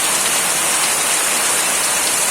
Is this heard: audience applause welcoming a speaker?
no